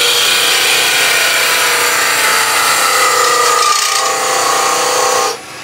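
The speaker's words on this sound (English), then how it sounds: "that's the reason I'm using a thick bowl gouge over a spindle gouge" A thick bowl gouge cuts into wood spinning on a lathe, a loud, continuous broadband shearing hiss that holds steady for several seconds before suddenly dropping away as the tool lifts off.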